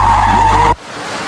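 Loud, close car tires squeal in a sustained skid for under a second, then cut off abruptly, leaving a low, quiet hiss; no talking.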